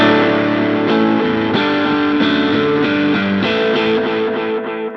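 Distorted electric guitar with echo repeats and ambience, a sustained chord wash restruck about every second in a steady rhythm, loud and close throughout.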